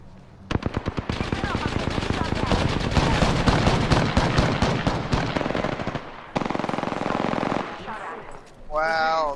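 Rapid automatic gunfire in a first-person shooter video game, long sustained bursts of fast, loud shots with a brief pause and a second burst, followed by a short electronic tone near the end.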